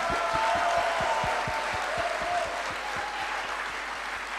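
Steady applause from a seminar audience fills the room, dense and sustained throughout with a few louder individual claps and faint whoops or voices mixed in.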